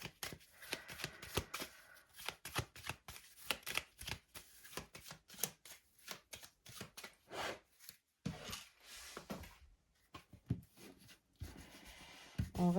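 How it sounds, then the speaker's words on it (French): Tarot de Marseille cards shuffled by hand, close and crisp, with rapid bursts of riffling and sliding that stop and start in uneven runs, then a brief pause before more card handling. "on va tirer les cartes."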